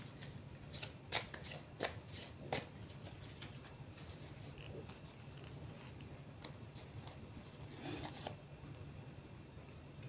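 A deck of tarot cards is cut and handled, giving a few crisp riffling snaps early on and then a softer continuous shuffling rustle, close and quiet.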